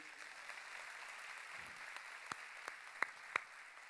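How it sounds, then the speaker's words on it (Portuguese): Church congregation applauding during a service, a soft distant patter of clapping with a few sharper individual claps standing out toward the end. "Quem pode dar um aplauso ao Senhor Deus?"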